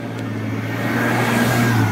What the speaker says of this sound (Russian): Машина проезжает.